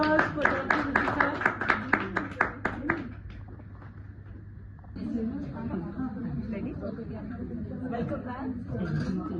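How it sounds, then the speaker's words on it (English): An audience at a women's leadership event in Delhi gives a short burst of clapping for Dr. Vidita that fades out, followed by chatter and talking. "big round of applause for Dr."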